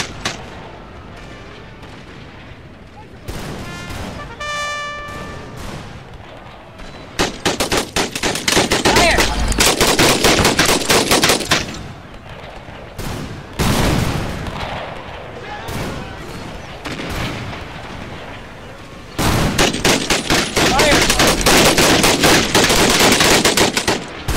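Artillery fires canister shot in an Anglo-Zulu War video game battle at iNyezane, heavy rapid volleys of gunfire rattling in long loud bursts with quieter gaps, a short tonal game sound early on.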